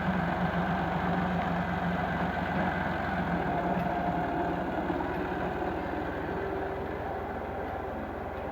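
A 2014 Massey Ferguson 360 tractor idles nearby with a steady, even diesel rumble and a continuous low throb, holding at a constant level with no talk.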